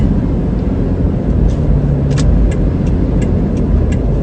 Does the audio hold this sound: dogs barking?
no